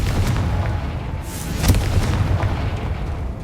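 The Confringo spell in Hogwarts Legacy goes off as a sharp explosive burst with a deep boom over continuous low rumbling game ambience.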